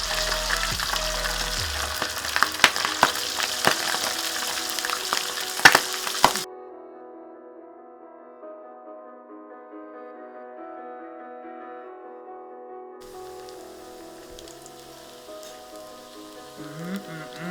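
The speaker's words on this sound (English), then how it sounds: "Adding the oil. Adding the meat." Pork for sisig frying in hot oil, a dense crackling sizzle for several seconds with sharp pops, then it cuts to a quieter stretch where only faint sizzling and low music remain.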